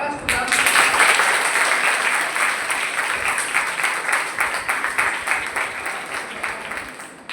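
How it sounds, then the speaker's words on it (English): Audience applause in a classroom-style session, a dense, loud wash of clapping from many hands that swells at the start and slowly thins and fades over several seconds. "Go big applause to them."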